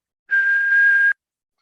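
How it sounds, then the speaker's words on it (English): A single steady whistled note, held for just under a second at one clear pitch, sounding alone against silence. "I'm going to try whistling."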